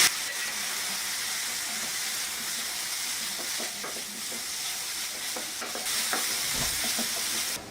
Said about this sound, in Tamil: சிக்கனை இது போல நல்லா வதக்கி விட்டுட்டு மஞ்சத்தூள், மிளகாத்தூள்,